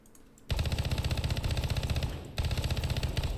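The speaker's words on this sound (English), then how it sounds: "Let's check out the MP9. Sufficiently chunky." MP9 submachine gun firing in the tactical shooter Ground Branch: after a quiet moment, a loud, close, rapid automatic burst rattles on, pauses briefly, then a second burst follows.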